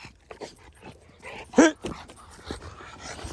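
Dog during bite work training, giving a brief whine and a sharp yelp among faint panting and movement, heard close while someone speaks a word.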